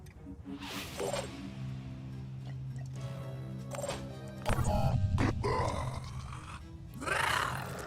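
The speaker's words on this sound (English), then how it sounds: "Yeah, that's the sound of the sirens." Siren enemies spawn in the video game Phoenix Point, sounding as eerie wavering cries and low roaring groans with sharp bursts, fairly quiet and layered over game ambience.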